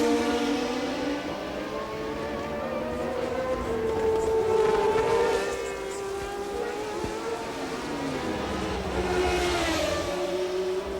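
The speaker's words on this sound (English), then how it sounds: "You see the orange car in front of Toleman for the first time, with Jabouille in the lapped Talbot Matra behind him." Formula 1 race cars from the 1981 San Marino Grand Prix scream past, loud high-pitched engines rising and falling in pitch as they pass, with several overlapping cars and no talking.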